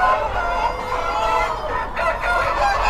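A crowd of breeder hens and roosters on a large egg-producing farm crow and cluck continuously, a close, thick layer of overlapping calls throughout.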